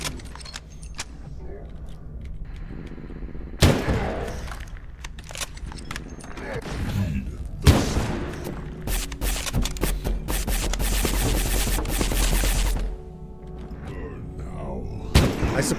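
Sniper fire in a fantasy video game battle against a Jotun: sharp cracks and heavy booms at intervals, with loud sustained clashing and impact noise between them, partly under a talking voice.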